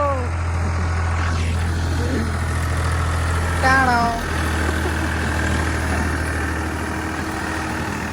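A tractor engine idling in river water with a steady low rumble throughout, while a few voices call out briefly over it.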